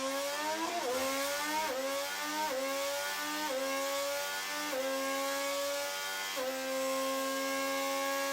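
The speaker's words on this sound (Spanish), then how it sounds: "La marca japonesa difundió un video con el sonido de su nuevo motor 2026." Honda's 2026 Formula 1 V6 turbo engine revving repeatedly, each rise in pitch followed by a quick drop as it shifts up through gears, a loud high-pitched whine throughout with no talk.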